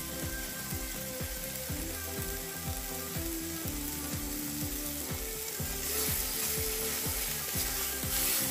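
Sprouted moth beans (matki) go into spiced masala in a pan, giving a constant loud sizzle with a steady, regular rhythmic scraping or clicking from stirring underneath, and no voices.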